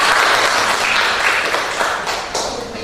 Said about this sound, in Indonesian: Oke, tepuk tangan untuk Tia.